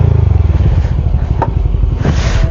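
Motorcycle climbing a bumpy dirt road, its engine throbbing loud and close with a pulsing rumble, plus intermittent clatter and scraping.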